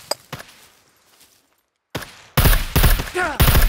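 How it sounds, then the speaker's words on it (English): Gunfire in the survival video game Scum, a few faint distant shots early, then after a brief silence a loud burst of rapid close-range automatic fire dominating the final seconds. "Oh, I'm getting shot"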